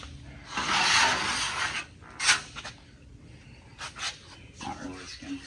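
A wide spreader drags fiberglass body filler across a bare steel panel, giving a loud rasping scrape followed by several shorter scraping strokes, close up with no talk.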